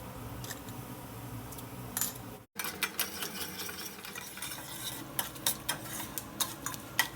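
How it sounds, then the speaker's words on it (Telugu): A tempering of chana dal, urad dal, mustard seeds and cumin fries in oil for upma pesarattu: a steady low sizzle with a brief dropout, then regular light clicks and pops from stirring and crackling seeds. No voices. "ఒక స్పూన్ పచ్చిశనగపప్పు అలాగే ఒక స్పూను మినపప్పు ఒక హాఫ్ స్పూన్ ఆవాలు కొద్దిగా జీలకర్ర వేసి పోపుని ఇలా వేయించుకుందాము"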